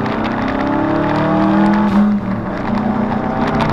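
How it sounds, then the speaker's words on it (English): A Subaru WRX accelerates hard on the road with a loud, rumbling engine note that rises and falls across the pull, with no talk over it. Individual wastegate or blow-off valve sounds cannot be made out separately. "Hope you can hear those waste gates, that sounds really cool, or the blow off valves"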